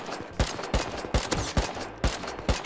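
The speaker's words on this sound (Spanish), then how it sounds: "Le he metido 4 tiros" Gunfire rings out in the survival video game Rust, with roughly seven sharp shots spaced irregularly over a few seconds, punchy and fairly close against a dull background.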